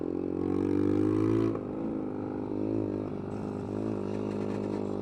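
A motorcycle engine drones steadily while the rider leans round a roundabout, a close, even hum that dips in pitch partway through and then holds level, with no voices.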